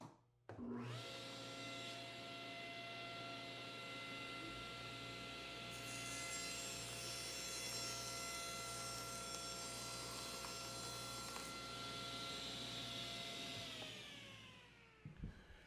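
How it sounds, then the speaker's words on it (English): A table saw spins up, rips plywood drawer parts to width with a steady loud whine and cutting rasp for over ten seconds, then winds down. "Now I'll rip the parts to width."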